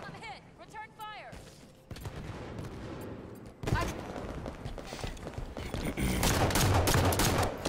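Rapid bursts of video game gunfire, fusillades and machine-gun fire crackling at varying distances, louder toward the end, with players talking over the shooting.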